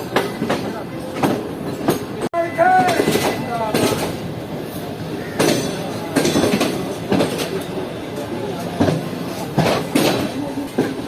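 The Karakoram Express rolls along between Karachi and Lahore with steady rumbling, wheel clatter and occasional metallic squeals, a sharp bang near the start, heard from inside the carriage.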